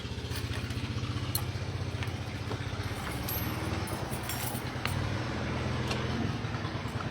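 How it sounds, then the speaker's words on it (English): Farm tractors starting up in a rural area, their engines producing a steady low rumble that runs throughout at moderate distance, with faint metallic clatter and no talking. "we have some farmers just starting up their tractors"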